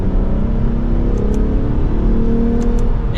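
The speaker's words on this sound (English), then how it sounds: "if we put it into Sport S Plus and we downshift to third gear" A 2024 Lexus IS 350 F Sport in Sport S+ mode, downshifted to third gear, revs with a loud, sustained engine drone and steady exhaust tone, close and continuous.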